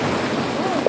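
Ocean surf washes onto a white sand beach in a loud, continuous rush of broadband noise with wind buffeting the microphone, and a brief voice sounds near the end.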